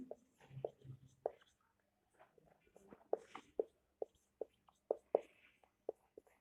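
Writing on a board during a chemistry class: faint, close scratches and sharp taps in an irregular rhythm, separated by brief quiet gaps, with no talking.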